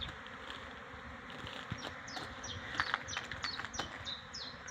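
Bees buzzing around a blossoming cherry plum on a fine spring day, a faint steady hum of many insects with individual bees passing close, and small birds chirping in the background.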